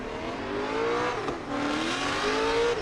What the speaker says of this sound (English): So now this is half-mile drift.